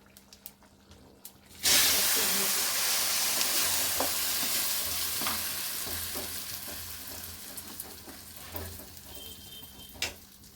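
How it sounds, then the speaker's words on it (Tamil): Ground pirandai chutney is dropped into a hot tempering pan with curry leaves and bursts into a loud sizzle. The sizzle then settles into a steady frying hiss with scattered crackles and a faint background hum. "இப்போ வந்து நம்ம அரைச்சி வச்ச சட்னியை அதில் போட்டுக்கலாம்."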